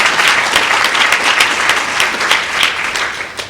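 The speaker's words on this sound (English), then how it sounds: "that applause is in recognition of our level of pride in the work that you have committed to" An audience at a school board of education meeting applauds students, steady clapping filling the room for a few seconds, loud and close, without talk.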